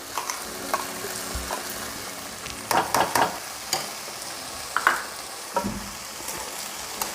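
Tomato puree being stirred into stuffed eggplant curry in oil, with scraping spoon strokes and soft sizzling spread over several seconds at moderate level, no talk.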